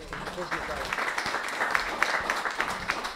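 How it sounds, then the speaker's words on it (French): An audience at a French public debate on ageing and health applauds a speaker being introduced, giving a dense, sustained burst of clapping with some voices mixed in. "je vous demande d'applaudir Pierre-Jean Gracia."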